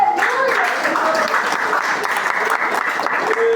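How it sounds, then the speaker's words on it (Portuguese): A congregation at an evening church service claps steadily together in sustained, dense applause, with a few voices calling out over the clapping throughout. "Pode dar uma salva de palmas para Jesus."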